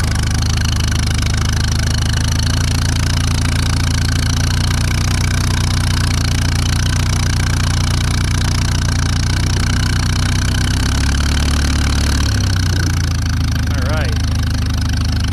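Farmall A tractor engine idling low, a loud, close, steady rumbling throb that drops slightly lower near the end, with someone briefly talking over it.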